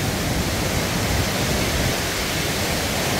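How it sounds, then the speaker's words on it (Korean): Miin Waterfall tumbling through Tongni Gorge in Samcheok, giving a steady, dense roar of falling water that holds even and loud throughout, with no voices. "미인폭포입니다."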